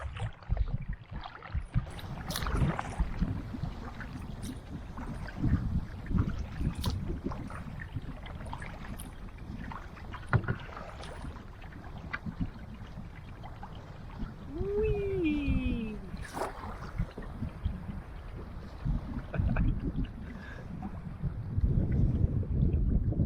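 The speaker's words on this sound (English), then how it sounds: "paddling back with this tailwind" Kayak paddling on Jackson Meadow Reservoir in a tailwind: intermittent paddle splashes and water movement under gusty wind buffeting the microphone, with a brief voice-like tone partway through.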